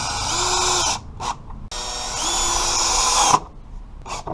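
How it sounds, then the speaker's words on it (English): A power drill whines in two long bursts, each lasting about a second or more, driving screws into wood, with brief pauses and small clicks between them, close by. "Alright, now let's screw them in."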